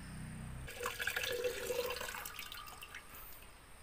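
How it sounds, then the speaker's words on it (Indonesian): Water poured off a container holding gold settled out from recovered phone parts, a soft steady trickle and splash lasting a few seconds. "Sekarang saya mau salin airnya dulu."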